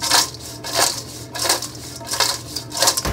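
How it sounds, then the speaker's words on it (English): Shichimi togarashi-seasoned fries with scallions tossed in a metal bowl, a rhythmic series of scraping, rattling tosses repeating about every half second, close and fairly loud with no talking. "Toss them again."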